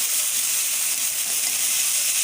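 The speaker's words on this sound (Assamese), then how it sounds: "ঢেকীয়া শাকখিনি ভালকৈ লৰাই দিছোঁ" Fiddlehead fern (dhekia) greens are stirred in a pan of hot oil, making a steady, even, bright hiss with no talking over it.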